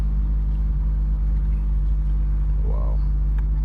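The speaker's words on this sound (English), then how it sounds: "Yeah, the startup of this car." A 2022 Honda Civic Type R engine holds a steady, deep rumble at close range, loud and even throughout with no sharp revs.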